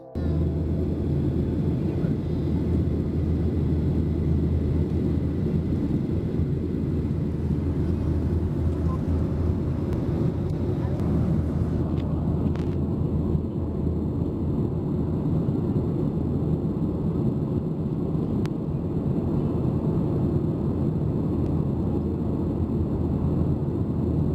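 Steady broadband roar inside an airliner cabin cruising at about nineteen thousand feet between Dhaka and Kolkata, a continuous low rumble with hiss that holds constant throughout.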